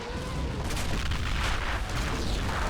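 An enemy gun fires in the wartime strategy game Men of War: Assault Squad 2, a dense, continuous rumble of heavy booms that rolls on without a break for the whole stretch.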